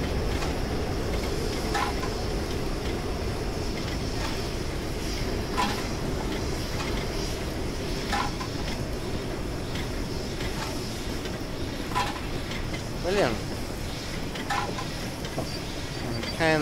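The steam locomotive Tornado rolls along the Settle to Carlisle line in Train Simulator, a steady rumble of wheels on track with regular clicking rail joints and occasional brief hisses, with no speech.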